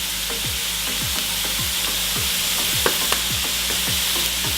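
Breakfast fried rice sautéing in a pan, a steady bright sizzle with repeated scraping stirs of the spatula at a regular rhythm, close and continuous.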